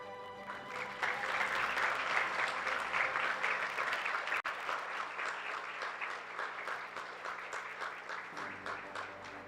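Audience applause at a national youth environmental speaking final in Guyana, a dense, steady roar of many hands clapping throughout, loud and continuous with slight swells.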